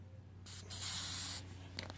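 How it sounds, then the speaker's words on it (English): A short, faint hiss from a can of silicone spray applied to a tire bead, one steady burst lasting under a second, followed by a couple of brief puffs. "you can spray some silicone on"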